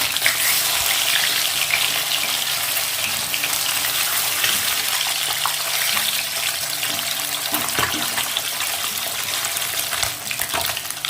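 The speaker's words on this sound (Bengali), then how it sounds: "মাছের এক পাশটা ভাজা হয়ে গেছে, এবার আমি উল্টে দেবো।" Katla fish pieces fry in hot oil in a pan, a steady close bubbling sizzle that runs continuously and loudly throughout with no voices.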